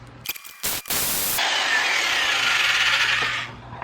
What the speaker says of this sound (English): So pretty much drilled a pilot